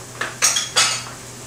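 Chopped tofu dropped into a pot of miso soup, a few quick clinks of utensil against cookware followed by soft splashy rustles, close and clear with no talking.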